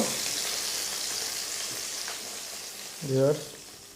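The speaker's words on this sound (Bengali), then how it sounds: "দেখতে পাচ্ছেন আমার মাংসটা ভাজা হয়ে গিয়েছে।" Pieces of chicken frying in hot oil give a steady, close sizzle throughout, with a brief clatter or stir near the end; no one speaks.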